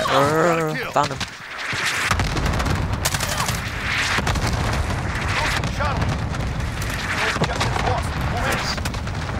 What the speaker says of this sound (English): Target spotted. Allied cluster strike incoming.